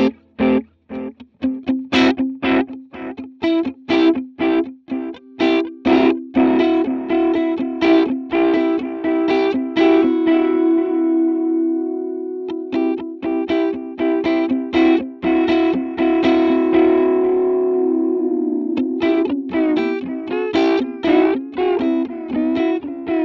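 Electric guitar played through a Line 6 Helix modulated delay, choppy picked notes trailing into wobbling, pitch-shimmering echoes that swell and sustain, loud and dry of any voice.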